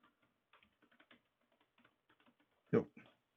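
Quick bursts of typing on a computer keyboard during an online game's text chat, faint and close, with irregular key clicks and one louder clack near the end.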